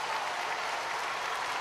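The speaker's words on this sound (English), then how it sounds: "And the crowd rises to its feet" A figure skating arena crowd applauds steadily as a pairs free skate at the Rostelecom Cup 2021 ends, a dense, continuous wash of clapping filling the hall with no gaps.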